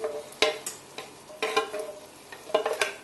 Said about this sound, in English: I will start putting the tomatoes in. Be careful not to splatter.